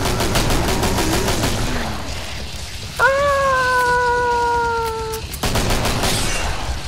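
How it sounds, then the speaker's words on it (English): Rapid gunfire from the video game Killing Floor crackles loudly and continuously, with a brief tonal electronic whine in the middle before the dense shooting resumes. "Shoot them to dead! Shoot them all!"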